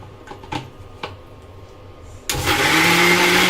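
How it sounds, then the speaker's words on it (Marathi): After a few faint clicks and knocks, a kitchen mixer grinder starts up grinding Malvani masala paste and runs in a loud, steady whir up close to the end. "आणि मग मिक्सर लावून घ्यायचं."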